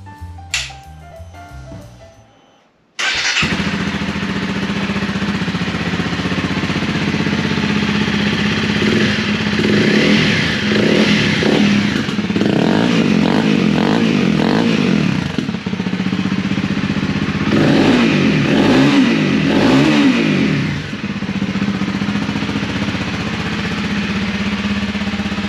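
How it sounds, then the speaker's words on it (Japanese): A heavily customized Honda CRF250 Rally LD motorcycle cranks over after a few seconds of quiet clatter, then fires up into a loud, close single-cylinder idle. It blips through several sharp revs that rise and fall before settling back. "そしてその次にエンジンかけたいなと思います。"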